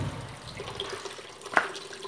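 Water runs from a plumbing pipe or fitting, a soft, steady trickle close by with a brief splash or knock partway through.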